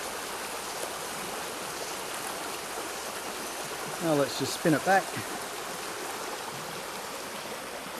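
Steady outdoor stream water flowing and rushing with constant hiss throughout, while someone speaks briefly near the middle.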